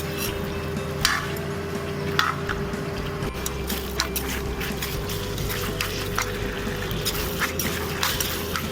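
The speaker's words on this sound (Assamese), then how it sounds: "এতিয়া ফ্লেমটো অকণমান হাই কৰি অলপ টাইম ভাজি থাকোঁ" Steady sizzling and crackling of duck meat frying in a pan on a raised flame for an Assamese duck curry, with occasional louder spatters and scraping stirs over a constant low hum.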